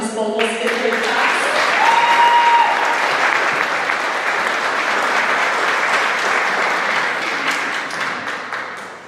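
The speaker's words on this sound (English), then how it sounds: "Another round of applause for Ms. Vogel's fifth grade class." Applause for a fifth grade class at a school graduation ceremony swells quickly from a brief opening, stays full and dense for several seconds, then tapers off gradually toward the end.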